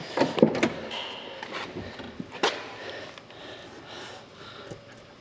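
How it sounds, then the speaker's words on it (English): A car door on a 1971 Cadillac DeVille shuts with a sharp thud near the start, followed by a second firm clunk a couple of seconds later, with quiet handling noises and a faint background hum around them. "the door closes perfectly"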